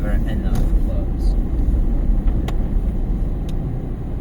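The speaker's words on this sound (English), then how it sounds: "The car is really dying, I feel it." An old car with a failing engine cruises along a highway, a dense, continuous low road and engine rumble from inside the cabin, with a few faint clicks and ticks over it.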